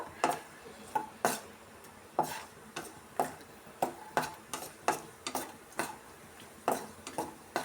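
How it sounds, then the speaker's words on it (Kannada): Cashews being roasted in a pan while making hesaru bele payasa, a sweet lentil dessert: quiet, irregular clinks and scrapes as a utensil stirs against the pan, with long pauses between strikes. "ಗೋಡಂಬಿ ಸ್ವಲ್ಪ ಕೆಂಪಿಗೆ ಹುರ್ಕೊಬೇಕು ನೋಡಿ ಈ ಥರ ಹುರ್ಕೊಬೇಕು"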